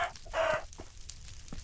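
Chicken clucking in the Minecraft video game: a few short, close game-style clucks and squawks in quick succession, loud against a quiet background.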